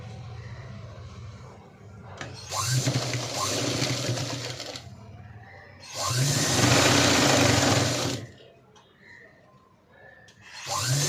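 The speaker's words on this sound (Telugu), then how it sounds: "ఇప్పుడు మనం రెండో సైడ్ కూడా మనం స్టిచ్ చేసుకుందాం." A sewing machine stitches the second side of a pencil-cut pant. Three loud, steady bursts of machine whirring are separated by short, quieter pauses.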